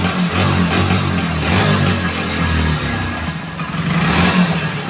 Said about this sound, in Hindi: जैसे ही बाइक का थ्रोटल लेते हैं तो एकदम बंद होने जैसे घुट घुट के बाइक चलती है